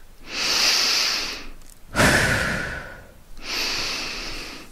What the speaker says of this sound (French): je vais augmenter un peu mon niveau de vigilance par une respiration plus tonique. J'inspire.